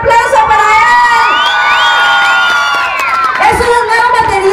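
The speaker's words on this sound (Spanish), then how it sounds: "un aplauso para él" A concert crowd cheers, whoops and applauds loudly for Ray Espinosa and his group from Campeche at a 2010 Radio Calpulalpan show. The bright shouts and yells rise and fall in a dense, continuous roar.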